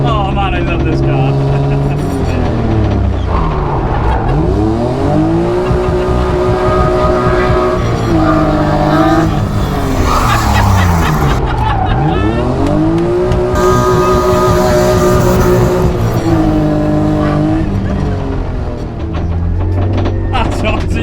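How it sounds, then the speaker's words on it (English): A competition-spec BMW E36 323i drift car engine revs hard and climbs through the gears with a gruff, loud, continuous note and rising and falling pitch sweeps, all under ongoing talk inside the car. "it's definitely got that grunt. Yeah, and mixed with the diff, banging through the gears."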